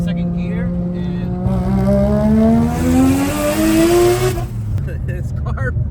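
A Mazda RX-7 FD with a 20B rotary engine pulls hard in second gear, its loud rising engine note climbing steadily before easing off near the end, heard from inside the car.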